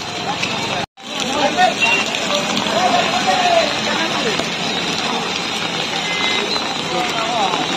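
Steady broadband hiss of heavy rain pours continuously over a busy market street in Sirajganj, broken by a brief cut near the start, with faint voices murmuring underneath.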